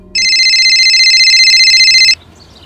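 A telephone in a crime drama gives one loud, steady electronic ring lasting about two seconds, then stops abruptly, leaving near silence.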